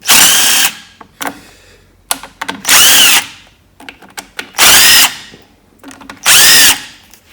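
Cordless power drill removing the carburetor nuts on a John Deere 22 hp V-twin Briggs & Stratton engine, close and loud in four separate whirring bursts with clicking and handling noises between them.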